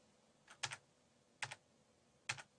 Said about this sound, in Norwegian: så kan du trykke F på tastaturet ditt